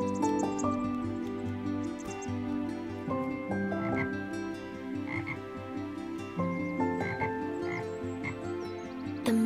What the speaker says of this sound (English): A bullfrog bellowed his morning croak.